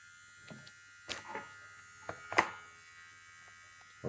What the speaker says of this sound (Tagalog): So, meron na akong hair trimmer.